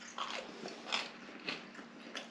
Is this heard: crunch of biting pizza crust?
yes